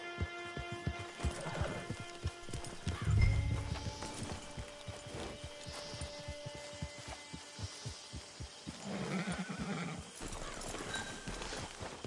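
Horse hooves clip-clop at a steady walking rhythm in Red Dead Redemption 2, clear and near, with a low snort partway through and soft background hum.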